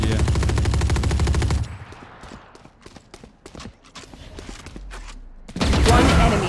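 Rapid automatic gunfire from a Valorant match blasts loud and close for over a second, then a stretch of sharp scattered shots and clicks, before another heavy burst of sustained firing.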